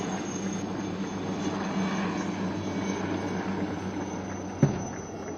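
Chetak light multi-role helicopters fly over a Navy Week naval display, their rotors and engines making a steady distant drone throughout, with a brief sharp knock near the end.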